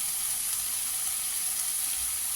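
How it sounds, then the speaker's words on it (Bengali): Hilsa fish heads fry and are stirred with spices in hot oil for a chalkumro ghonto, giving a steady, even sizzle with no voices. "তারপরে ভালো মতো একটু নাড়াচাড়া করে ভাজা ভাজা হয়ে গেলে মশলাটা ওই মাথাটা দিয়ে ভালো মতো নাড়াচাড়া করে"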